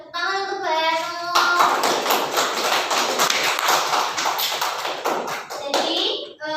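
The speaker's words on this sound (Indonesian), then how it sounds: "Tepuk tangan untuk Mbak Ainun." In a classroom, students break into a long round of dense, steady clapping that lasts several seconds, with a few voices heard before and after it.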